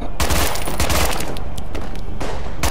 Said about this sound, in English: Stop firing your automatic machine gun, crazy fuckers!